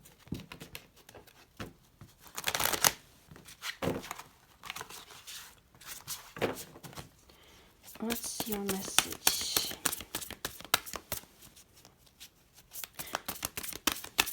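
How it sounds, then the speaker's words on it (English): A deck of tarot cards is shuffled by hand in repeated bursts of riffling and slapping, close and crisp, while someone speaks softly between the shuffles. "While I'm shuffling"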